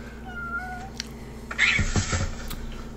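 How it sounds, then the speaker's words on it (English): A cat lets out a loud, drawn-out meow over faint background noise, followed by a few soft thumps, with no one speaking. "What about that cat?"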